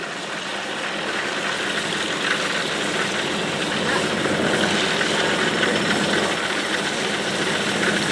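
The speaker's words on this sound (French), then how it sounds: "autrement dit le DC-3, se met en route." A Douglas C-47 Dakota (DC-3) piston aircraft engine starts up and runs with a steady, loud, rough drone that builds slightly and holds, with a faint voice underneath.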